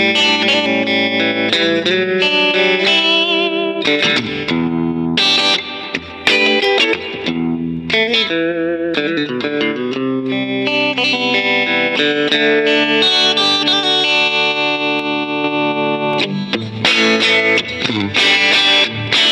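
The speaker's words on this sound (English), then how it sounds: "it boosts in with the pedal controller on the VC12, a little bit of distortion to give you a little bit of raunch" An electric guitar plays through a Vox Valvetronix VTX150 Pro Neodymium amp with a distortion boost from a VC12 floor controller, giving a loud, continuous, gritty line of chords and notes.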